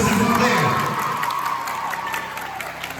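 Applause and cheering from an audience of children and adults at a holiday talent competition for kids in Haiti, a loud continuous wash of clapping with shouts and whoops running through all three seconds.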